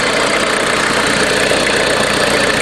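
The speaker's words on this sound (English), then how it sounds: "So now the vehicle's running" A vehicle engine idles steadily and close by, fitted with a faulty alternator, as a continuous mid-pitched rumble with no talking over it.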